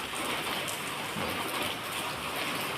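Rain falls in a steady, even hiss that holds at moderate loudness throughout, with no voices.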